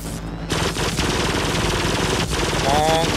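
An automated turret in the video game Firefall fires a loud, continuous rapid burst with steady repeated shots that carry through to the end. A brief quieter gap comes at the very start.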